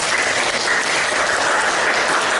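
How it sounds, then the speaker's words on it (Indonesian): A classroom group claps together in a teacher-training session, producing dense, steady applause that stays loud and even for the whole stretch with no talk over it. "Tepuk tangan dulu untuk kita semua."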